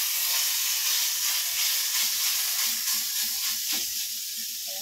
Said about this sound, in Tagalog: ilagay ko na po ito para iprito ko po siya hanggang lalabas po yung kanyang mantika